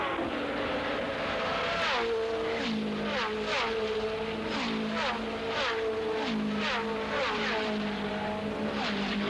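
Indianapolis 500 race cars roar around the oval in a loud, continuous engine drone, pitches rising and falling in repeated swoops as cars pass close by.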